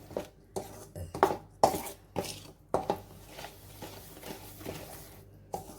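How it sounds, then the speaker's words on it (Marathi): Pickle masala is stirred into oil in a pot, giving a series of soft squishy scrapes and occasional clinks of the spoon against metal in an uneven, close rhythm with quiet pauses. "आता हा मसाला छान तेलामध्ये मिक्स करून घेऊया"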